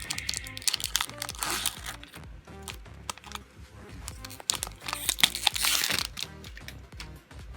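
A cardboard Pokémon booster pack is ripped open, giving close, crisp tearing and crinkling with repeated sharp rips and crackles throughout, alone without talking.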